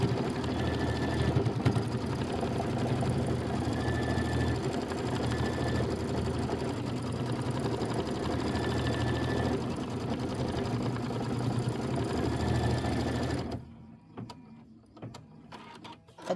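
An embroidery sewing machine stitches a Kimberbell Hello Sunshine pieced quilt block, running with a steady, close mechanical whirr and rapid needle chatter for about thirteen seconds before stopping, followed by faint handling noises.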